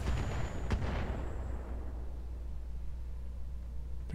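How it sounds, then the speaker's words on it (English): A single heavy mortar blast in the Roguetech mech combat game booms out, then a long rumbling decay fades over several seconds, loud and alone with no talking. "I think that was a mortar from the flea."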